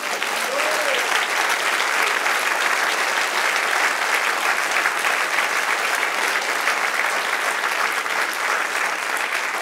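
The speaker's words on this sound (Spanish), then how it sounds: "Denle un aplauso al Señor." Sustained applause from a large church congregation fills the space, steady and dense throughout without pause, clapping at an even level from start to finish.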